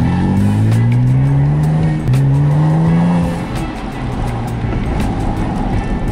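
Porsche 987 Boxster accelerating past a wall, its exhaust note rising in two loud, close pulls with a brief gear-change gap, the sound reflecting off the nearby wall before settling into a lower rumble.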